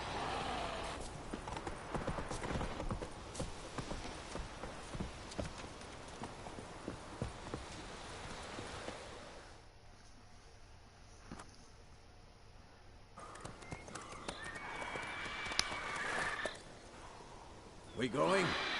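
Horse hooves clip-clop in a steady walking rhythm in The Witcher 3 video game, fairly close and even, with a brief quieter gap and voices talking intermittently over the hoofbeats.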